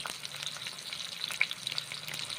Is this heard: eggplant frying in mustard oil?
yes